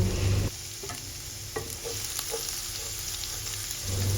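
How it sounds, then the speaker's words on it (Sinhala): Ginger and garlic hitting hot oil for a spicy soya meat curry, a soft, continuous sizzle with a few light scrapes and taps from stirring, fairly quiet and close. "තෙල් ටික රත් වෙගෙන එද්දි කලින් කපාගත්ත ඉඟුරු සුදු ලුණු ටික මේ විදිහට එකතු කරගන්න."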